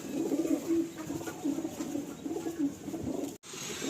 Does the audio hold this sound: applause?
no